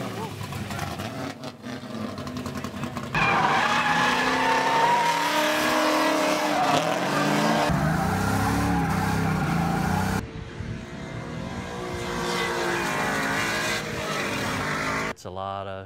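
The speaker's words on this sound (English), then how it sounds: "At night, I drive a drift car." A drift car roars as its engine revs hard and tires squeal through long sideways slides, the sound loud and sustained with shifting pitch and a brief drop in intensity before the engine picks back up near the end.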